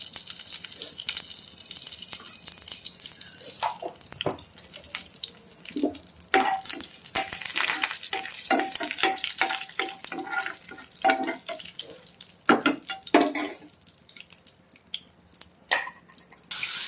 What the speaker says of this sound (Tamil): எண்ணெய் லைட்டாக சூடானதும் கொஞ்சோண்டு கடுகு போட்டுக்கோங்க.